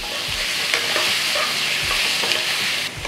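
Nendran banana pieces sautéed in a hot pan sizzle loudly and close, with a couple of soft stirring knocks and a brief dip near the end, no voices.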